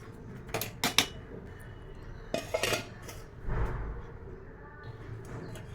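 Metal kitchenware clatters in a few short bursts, followed by a dull clunk as a lid settles onto a pot of semolina, all fairly close and with no talking.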